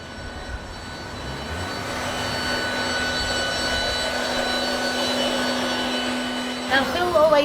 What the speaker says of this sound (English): his blower, so I had to have a go of it